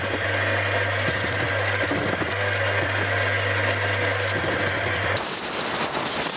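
An ultrasonic cleaner hums steadily while washing a carburettor from a 1960 BSA Bantam D7 motorcycle, with rattling and clicking over the drone before it cuts off into a hiss.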